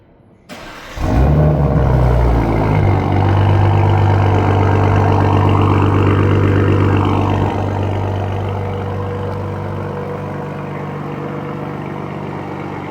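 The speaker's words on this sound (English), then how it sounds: "why don't we do a remote engine start cold start" A 2026 BMW M340i xDrive sports sedan with an M Performance exhaust cold-starts by remote, a sharp cranking catch flaring into a loud roaring rev, then settling to a steady, deep, slowly quieting idle nearby.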